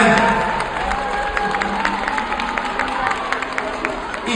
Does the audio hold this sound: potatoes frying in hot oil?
no